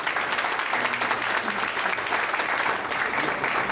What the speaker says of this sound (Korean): 큰 박수로 다시 한번 무대 위로 모시겠습니다